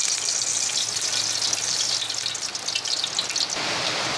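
Cooking oil sizzling in a hot frying pan before onion and garlic go in for pancit habhab, a steady bright crackling hiss heard close, easing slightly at the very end.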